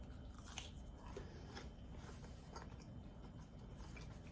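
A piece of toast being bitten and chewed close up, with crisp crunching bites repeating through a short quiet stretch and no talking.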